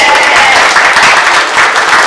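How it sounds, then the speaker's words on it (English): Loud, steady crowd applause at a Lunar New Year event at Cleveland's Asia Plaza, a dense wash of many hands clapping at once with no pause. "Let's give them a round of applause."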